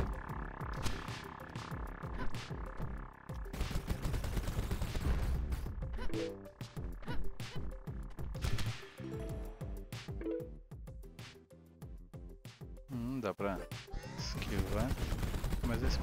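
Rapid gunfire bursts from a simple Nintendo Switch shooting game, loud and dense with repeated crackling volleys and crashes mixed with game music throughout.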